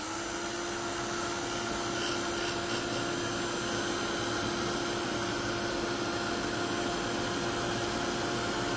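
A heat tool blows hot air over a dirty craft stencil, giving a loud, steady, close whooshing roar that runs unbroken throughout with no talk.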